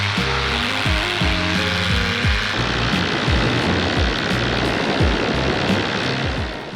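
A powered paraglider's engine and propeller rumble close by, first as a droning idle and then swelling into a loud, sustained roar as the pilot launches with a new wing at a fly-in.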